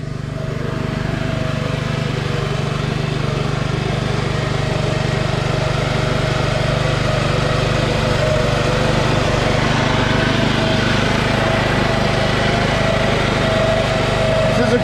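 A self-propelled lawn mower with automatic drive runs steadily and loudly close by, its engine drone holding an even, unbroken pitch from start to finish.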